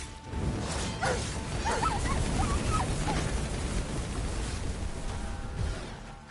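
Dogs barking and yipping in the video game Dragon's Dogma 2, several sharp barks near the start amid busy combat noise and game music, with a steady dense background throughout.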